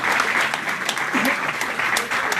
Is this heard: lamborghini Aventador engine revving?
no